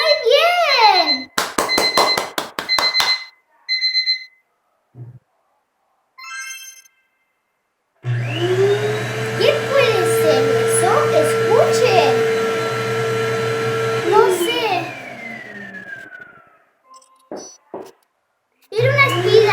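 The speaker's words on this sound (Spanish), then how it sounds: "¡Era una aspiradora!" A household vacuum cleaner runs steadily for several seconds, a loud sustained whine with a low hum, set between a voice and other short household sounds.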